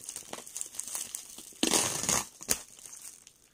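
A blade slicing open the plastic-and-cardboard packaging of an LG G7 ThinQ phone: close crinkling and crushing rustles, building to a louder tearing burst midway, then a sharp crackle before fading.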